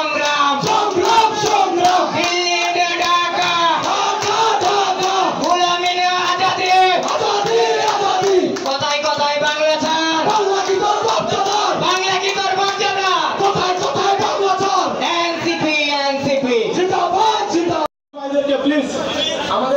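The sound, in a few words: crowd chanting slogans at political event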